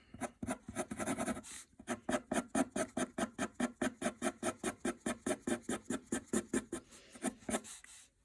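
A white eraser rubs out a pencil drawing on paper in quick back-and-forth strokes, close up. Rapid scrubbing follows a short pause, then settles into an even rhythm of about two to three strokes per second before stopping.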